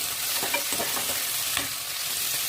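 Curry leaves crackle and sizzle in hot oil while a spoon stirs and scrapes the pan in short strokes, close up.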